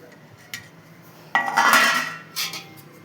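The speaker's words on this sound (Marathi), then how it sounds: "आता याच तुपामध्ये हे जे शेवई आहेत का नाही, बघा एवढं शेवई घेतलं तर एवढं ह्याच्यात पण असं भाजून घ्यायचं आहे." Vermicelli is roasted in ghee while a metal spoon scrapes and clatters in the pan, with one long stirring rasp and a few short knocks close by.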